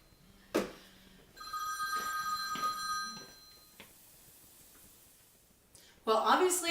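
A telephone rings in a home kitchen, two trilling ring bursts in close succession at moderate volume, followed by a quiet stretch with a few faint knocks and a loud rustle at the end.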